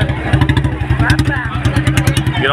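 Tractor engines idle and rev together at a tochan ground in Budhina Kalan, Muzaffarnagar district. The loud, close engine note chugs in a fast rhythmic pulse and carries on without a break.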